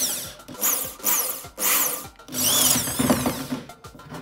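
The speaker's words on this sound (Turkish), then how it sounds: "Şöyle bir matkap ucumuz var. Bu tam tilet'lerin çapı kadar delik açabiliyor." A power drill bores a tealight-sized hole into a block of wood, whining in repeated short bursts that bite and ease off, then one longer grinding run as the bit cuts deeper, loud and close.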